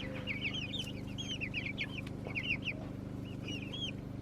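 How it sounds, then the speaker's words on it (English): Month-old chicks peeping and clucking in quick repeated high chirps over a steady low hum, close and moderately loud, no talk. "Here the chicks are. They're a month old now."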